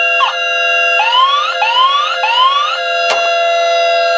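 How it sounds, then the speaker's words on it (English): Vintage Star Bird Space Avenger toy spaceship giving its electronic infrared hit sound: a rapid series of three rising whoops between short zaps, loud and close, with no talk. "if I fire it at the wall we should get a whoop whoop"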